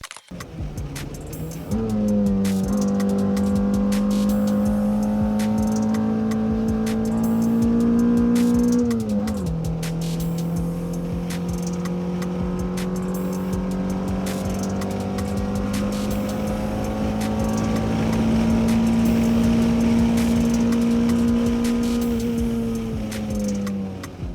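A car driven hard with its tail stepping out, the engine revving loudly and holding steady high notes through long pulls with a gear change partway, continuous and close for over twenty seconds.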